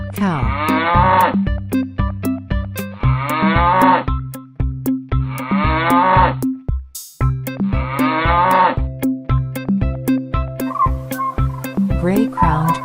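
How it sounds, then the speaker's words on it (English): A cow moos loudly and close in four long, drawn-out calls separated by short pauses, over a looping farm-animal background track with a turkey-like gobble near the end. "Cow."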